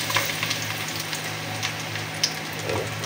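Garlic sizzling in hot oil in a saucepan, a steady crackling fry with scattered pops and spits, close and continuous, with no voices.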